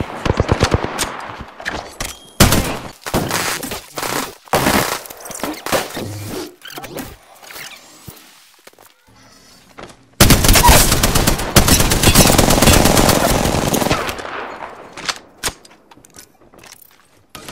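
Apex Legends gunfire comes in loud, close automatic bursts and rapid rattles, broken by short pauses and quieter mechanical clicks. A long sustained barrage runs near the end.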